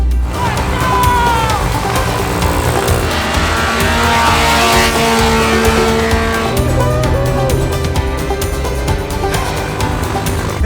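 A loud car engine revs and roars continuously, with tires squealing and slipping on snow as the car drives hard up a 12,000-foot mountain and a voice talks now and then.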